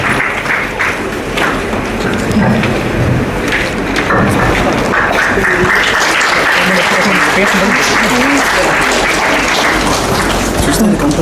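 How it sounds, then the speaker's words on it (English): A TEDx event audience gives a round of applause, dense continuous clapping from a large crowd that holds steady and loud throughout with a few louder individual claps. "please give a round of applause"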